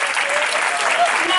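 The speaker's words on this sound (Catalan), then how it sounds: "un fort aplaudiment per a Elionor" Loud, steady applause from a crowd at a morning 9 d'Octubre commemoration, honouring Elionor, wife of Jaume I; the clapping runs dense and continuous throughout.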